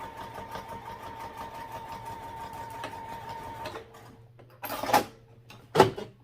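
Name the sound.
sewing machine stitching a seam on fabric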